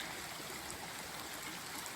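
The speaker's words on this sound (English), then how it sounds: "Little creek comes down here." A small creek flows around a little island in the Uwharrie area during rain and flooding, giving a soft, steady rushing and trickling that is faint and continuous throughout.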